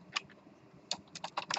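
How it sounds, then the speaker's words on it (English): Code being typed on a computer keyboard, a short burst of crisp, close key clicks coming in an uneven rhythm after a brief pause, with no talking. "type a line of code"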